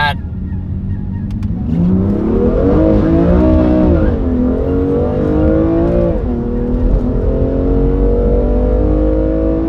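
A BMW M2 Competition sports coupe revs hard under acceleration, its engine note climbing in pitch through a gear, dropping at a shift, then rising again, loud and close with no talk.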